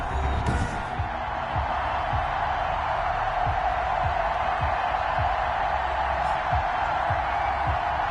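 A stadium crowd roars in a steady, dense wash for a Madden football video game matchup of the Buffalo Bills at the New York Jets, with no break in the noise and faint rhythmic thumps underneath.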